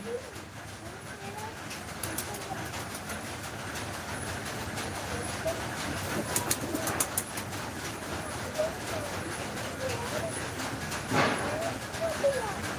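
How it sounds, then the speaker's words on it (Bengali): Soft, low pigeon cooing repeats intermittently against faint background noise, with a person speaking nearby. "দেখো আমার জ্যাক কবুতর দেখো কেমন করছে দেখো ডাকার জন্য"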